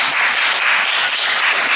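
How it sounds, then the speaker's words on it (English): Steady applause from an audience, dense continuous clapping close to the microphone with no pauses, heard alone for under two seconds. "let's clap it up for that."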